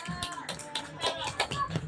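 Young students on an overnight stay at an Islamic school clap together in rhythmic bursts. The clapping is fairly faint and runs under a few words and tonal voices.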